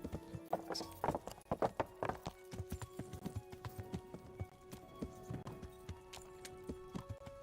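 A ridden horse's hooves in the video game Kingdom Come: Deliverance clop in a brisk, uneven rhythm, faint but distinct, with a few louder hoof strikes near the start and no talking.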